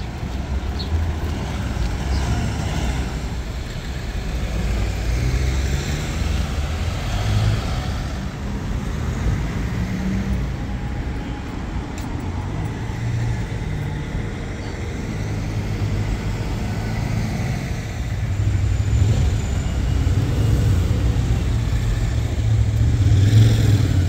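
Buses and other traffic rumble through a train station area in Buzău, a continuous low engine drone that swells as vehicles arrive and pull away, with steady road noise throughout and no talking.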